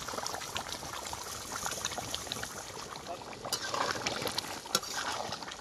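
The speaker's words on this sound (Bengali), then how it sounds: "কত সুন্দর ফুটছে দেখো" Mutton curry boils in a pot, a soft steady bubbling and gurgling with occasional small pops and clicks, fairly faint and close.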